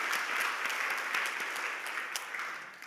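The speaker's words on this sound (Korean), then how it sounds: "일어나시면 환영의 박수를 드리겠습니다." Applause welcomes a newcomer family during a Korean Presbyterian Sunday service in Detroit, with a congregation clapping steadily and densely for about three seconds without speech.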